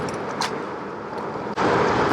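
Segway Ninebot Max G2 electric scooter climbing a hill at about 17 mph in 36 °C heat, a steady close whirring and wind rush with a brief dip before it swells slightly louder.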